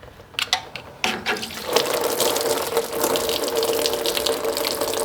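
Coolant drains in a steady gushing stream from a John Deere MT tractor after the hose clamps are loosened, with a few clanks at the start before the continuous splashing flow takes over, loud and close.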